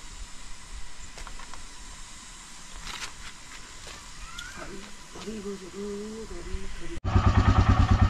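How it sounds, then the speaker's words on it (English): A motorcycle at Namo Buddha is kicked into life near the end, firing up abruptly into a loud, throbbing, rapidly pulsing idle after several seconds of outdoor chatter and handling noise. "finally bike is started by us"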